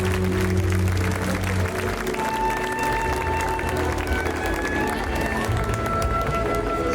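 Audience applause for an artist at a 2025 fashion show in Reana del Rojale, a steady, dense wash of clapping that runs throughout, with faint music tones threaded underneath.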